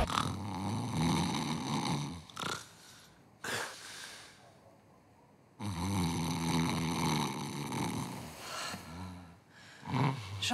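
A man snores loudly in bed, with long raspy inhaled snores broken by short pauses and a snort, close and alone.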